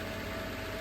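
Subaru 5EAT automatic transmission from an H6 3-litre Outback idling in drive on a 2-wheel-drive setup, a steady, even mechanical hum and whir that stays constant and close.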